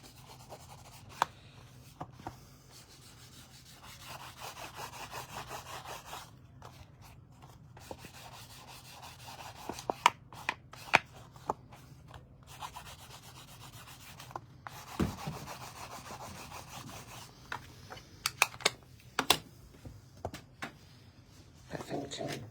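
Black paint being rubbed around the edge of a piece by hand, a soft continuous scrubbing with scattered brief taps and knocks, close and quiet, no talking.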